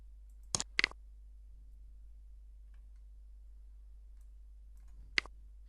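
Mouse clicks on a computer: a sharp double click followed by a single click a few seconds later, close and clear against near silence.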